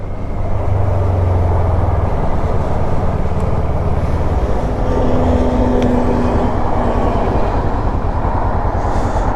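A 2014 Kawasaki ER-6N motorcycle, an A2-class bike, being ridden, with a loud, steady engine drone and wind rush throughout, no speech.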